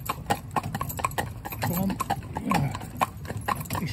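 A driving stallion's hooves clip-clop past loose mares in a steady, close, rhythmic beat, with a voice talking underneath.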